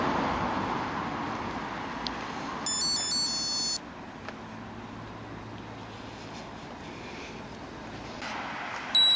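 A Garmin Forerunner 620 running watch sounds its slow pace alert: a steady high electronic beeping tone lasting about a second, then a brief second chirp near the end, over outdoor running noise.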